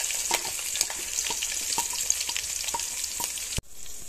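Green chili, ginger, garlic and curry leaves sauté in an oil pan with a steady close sizzle and scattered spoon scrapes, then the sizzle drops off abruptly near the end.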